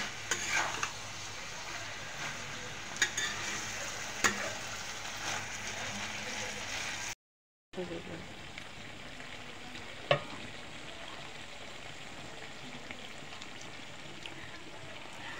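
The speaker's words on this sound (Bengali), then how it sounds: "আমি আরও ভেজে নিব।" Malabar spinach with shrimp frying in a pan, a steady soft sizzle with occasional stirring scrapes and a couple of brief utensil taps, broken by a short silent gap midway.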